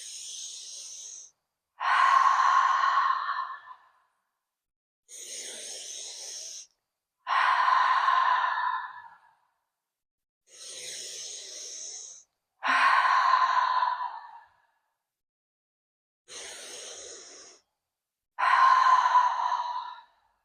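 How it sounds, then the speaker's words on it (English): Deep yoga breaths alternate in a slow, even cycle, four soft inhales each followed by a longer, louder sighing exhale, close and with no talking between them. "Inhale. Exhale. Inhale. Exhale."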